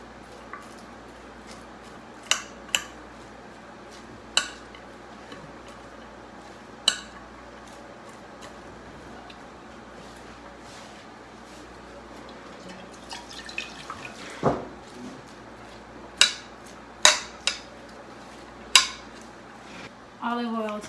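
A utensil stirs red cabbage with lemon juice in a bowl for a Haitian red cabbage dish. Sparse, sharp clinks and wet drips come at irregular intervals, growing busier toward the end over a quiet room.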